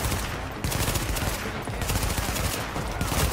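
Rapid machine gun fire in the video game The Division, dense continuous bursts broken by two short pauses, loud and close, with faint talk underneath.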